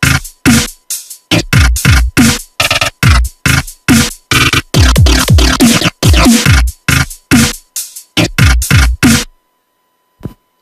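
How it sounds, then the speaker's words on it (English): Glitchy dubstep bass built in FL Studio with Fruity Granulizer and Slicex chops out in loud, stuttering bursts separated by sharp gaps, with rapid repeated slices and abrupt cutoffs throughout. "make a nice glitchy dubstep bass that sounds like this"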